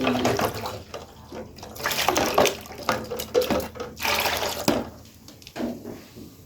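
Lab equipment rinsed under running tap water, with a steady splashing flow broken by bursts and pauses over several seconds, close by, with brief low voices underneath.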